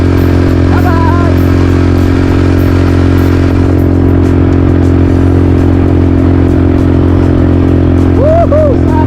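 A motorcycle riding on a road in Zambales, its engine a loud, steady drone blended with heavy wind rush that stays constant throughout, with brief voices and whistling faintly in the mix.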